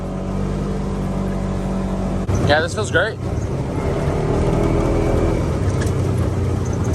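Razor side-by-side engine revving hard in high gear around 5,000–6,000 RPM on a mountain trail, a loud sustained drone throughout, with someone briefly speaking over it partway through.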